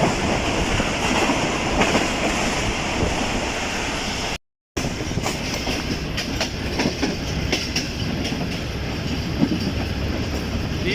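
The Awam Express runs near Karachi with a loud, continuous roar and rhythmic clickety-clack of wheels over rail joints, broken by one brief dropout midway.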